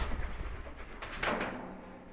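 Nibbles, a pet bird, gives a low cooing call close by, soft and brief amid faint rustling, with no one talking.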